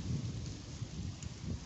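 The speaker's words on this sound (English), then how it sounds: "You can hear the hailstones." Hailstones pour down steadily during a heavy hailstorm over Woking, UK, a dense, continuous hiss and patter that fills the whole stretch without a break.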